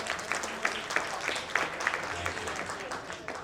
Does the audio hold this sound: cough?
no